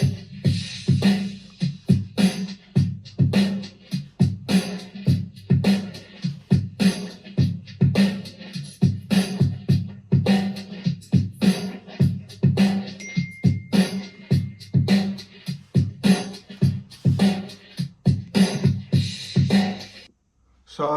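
A song plays alone, its drums beating a steady rhythm of punchy kicks and snares for about twenty seconds at a moderate, clear level.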